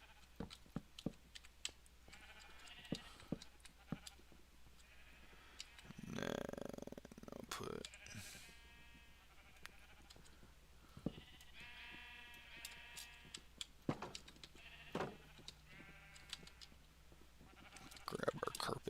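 Sheep in the Minecraft video game bleat in repeated short calls scattered across the scene, some near and some farther off, mixed with clicks and movement sounds.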